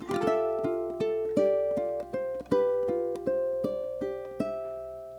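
Plucked ukulele notes in a short, steady melodic passage, each note ringing out clearly with gentle strums between, played alone without any talk.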